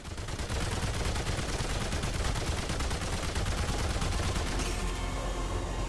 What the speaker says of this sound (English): My guns do a lot of damage at least.